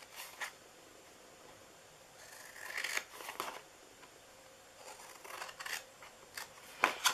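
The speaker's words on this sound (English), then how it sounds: "so now this side, we are cutting down each one of these." Scissors snip through paper while a Valentine's Day treat box is cut out, giving quiet, close, irregular crisp cuts and rustles separated by pauses, with no talking.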